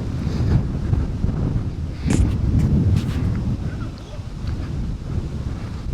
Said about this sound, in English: As the wind kicks up heavily, hopefully this audio on this is coming out all right.